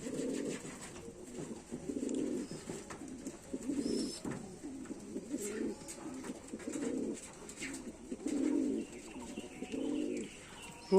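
Pigeons in a loft coo over and over in low, rolling phrases that come one after another at a steady pace, moderately close, with faint chirps now and then and no talk.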